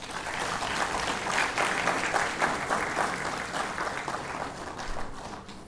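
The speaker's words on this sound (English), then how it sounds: "Could we all clap for that" A crowd claps at a business school foundation day celebration, a full, fairly close round of applause with uneven swells of many hands, continuing steadily without talk.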